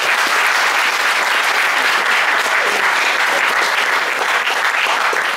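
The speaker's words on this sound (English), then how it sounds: "Give them a round of applause." An audience at a university philosophical society applauds a mathematician's mental-arithmetic demonstration, with loud, sustained, even clapping from a full room and no voices over it.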